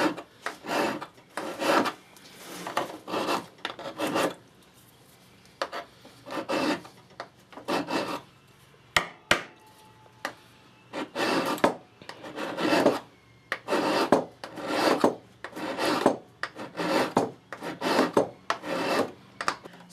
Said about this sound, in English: I'm going to put a flat spot in this for the set screw